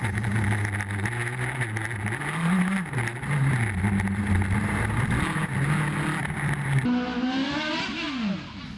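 Light, powerful race car on a hillclimb course at the Carlow Sprints, heard from inside the cockpit: a loud, close engine that rises and falls in pitch through gear changes and throttle, then revs up sharply near the end.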